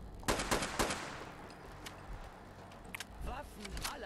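An AK rifle fires in Fallout 4 as a rapid string of sharp reports over the first second, followed by a short pause and softer scattered noises. No one speaks.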